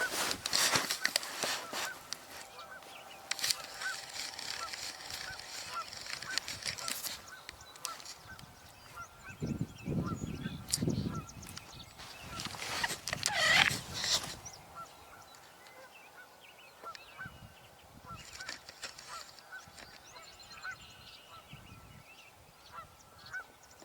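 Wild swans, including a mute swan, call outdoors at a distance, giving scattered honking notes over several seconds amid faint background noise, with louder bursts near the middle.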